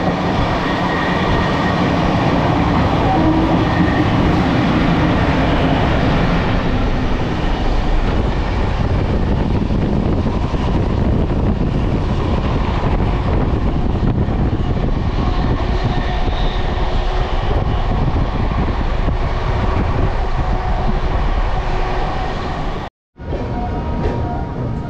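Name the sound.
train overtaking the Howrah Rampurhat Express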